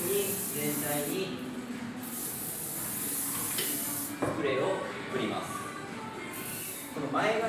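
L16 Hard Blast hair spray hisses from an aerosol can over a whole head of hair in a salon, in long continuous bursts with short pauses, close and fairly loud under someone speaking.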